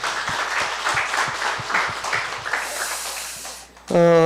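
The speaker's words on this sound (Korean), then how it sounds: "우리 한 사람 교회 역사하신 하나님 앞에 영광의 박수 올리겠습니다." Congregation clapping in applause at a church gathering in Gunsan, a steady burst of many hands for about three and a half seconds before it fades, then a voice begins speaking.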